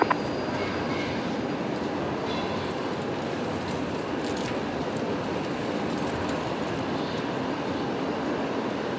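A steady, loud roar of aircraft at Brisbane Airport swamps an open stream microphone, a broadband rumble that holds almost unchanged throughout with no voices.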